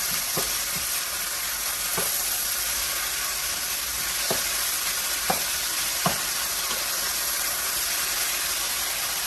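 Sliced Philly cheesesteak meat sizzles steadily in a hot pan, a constant close-up fry hiss broken by a few sharp clinks and pops.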